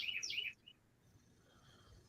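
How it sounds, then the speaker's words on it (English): A small bird gives a quick burst of several high chirps, faint and distant in a quiet indoor room, then falls silent. "Yes, you do hear a bird in the background."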